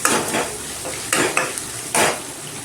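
A spoon stirs ingredients sautéing in a pan for mango rice, giving a sizzling hiss with several scraping, clinking strokes against the metal, loud and near with no talk.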